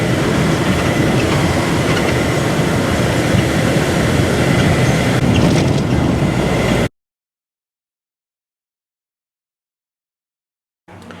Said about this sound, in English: I'm guessing this is the Belgrade railroad station.